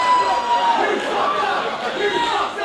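A wrestling crowd at a Fight Kingdom event roars in a dense, continuous wash of shouting and chanting, loud and close, over a commentator's voice.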